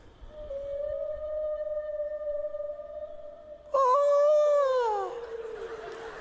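Long drawn-out whale song, sustained moaning tones that rise and bend into higher wavering calls near the end, loud and continuous.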